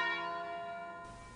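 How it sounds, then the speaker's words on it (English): A funeral bell tolls at St Michael's Church in Stewkley, one strong ringing stroke with long sustained overtones that slowly fade, heard alone at the start of a village anti-airport demonstration. "The funeral bell tolled at St Michael's Church as the first demonstration got underway"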